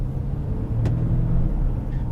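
Engine of a BMW 520 F10 LCI heard from inside the car while it changes gear, a steady low rumble with a brief sharp shift blip partway through.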